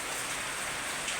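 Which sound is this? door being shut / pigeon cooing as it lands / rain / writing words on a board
rain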